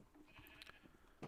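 Sheep in a video game bleat faintly several times in a row, with a louder rustling burst at the end and no talk.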